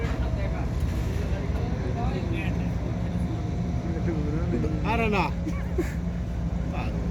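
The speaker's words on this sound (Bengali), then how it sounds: "দুই বালির ট্রলার এখন প্রচন্ড পাল্লাপাল্লি চলছে" Two sand-carrying trawler boats race side by side on a river, their engines a steady loud droning rumble throughout, while people shout and talk over it.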